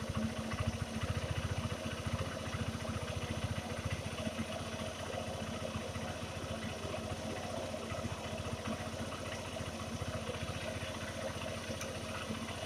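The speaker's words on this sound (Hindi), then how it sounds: "इसको थोड़ा सा और खोलते हैं देखिए तो रेस और थोड़ा और भी बढ़ रहा है" A 2019 Honda Shine SP motorcycle engine runs steadily during carburetor adjustment, a close, even mid-pitched putter held at a fairly constant speed throughout, with no talking.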